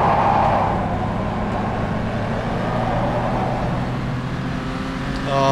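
A Porsche racing around a circuit in a driving video game, its engine a loud, steady drone throughout with a rising pitch at the very end, heard alone without talk.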